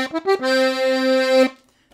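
A few quick reedy notes lead into one sustained, bright chord on a Baldoni two-row diatonic button accordion using three voices, with a wavering, layered tone, held about a second before stopping.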